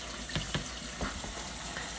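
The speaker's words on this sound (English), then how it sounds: "And by rinsing them real well with cold water, it helps remove some of the chemicals." Canned beans being rinsed under a cold kitchen tap, a steady stream of running water splashing in a sink with a few brief clatters, close and fairly loud with no talking.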